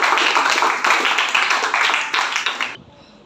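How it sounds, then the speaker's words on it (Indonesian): Students in a classroom clap together for a discussion group, a steady burst of clapping that stops abruptly near the end. "tepuk tangan untuk kelompok"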